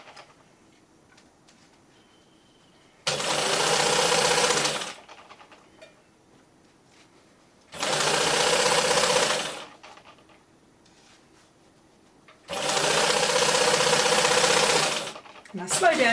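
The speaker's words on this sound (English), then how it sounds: "Do a couple of stitches, back tack and forward." A sewing machine stitches a seam on a drawstring bag in three loud bursts of steady whirring, each lasting two to three seconds, separated by quiet pauses where the machine stops.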